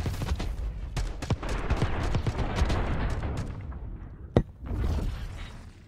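Rapid XM4 assault rifle fire in a Black Ops 6 match, dense bursts crackling close and loud with a sharp single shot near the end, alone without talk.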